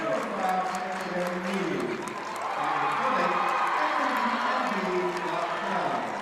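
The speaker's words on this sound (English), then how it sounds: "That cheer brought to you by the Schenck Wolverine cheerleaders." Schenck Wolverine cheerleaders perform a cheer during a timeout at a Class D boys basketball regional final against Katahdin. Steady gym crowd noise and voices run throughout, with chanting and cheering washing over a dense, reverberant murmur.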